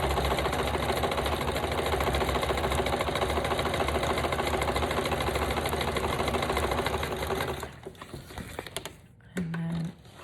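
A sewing machine runs a zigzag stitch on a small journal cover project, a steady close, loud mechanical whir for about eight seconds before slowing and stopping, with a brief final burst near the end.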